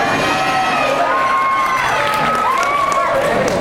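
A convention crowd at San Diego Comic-Con 2013 cheers, whoops and hollers in a dense, continuous roar, with high shrieks rising above the steady wall of noise.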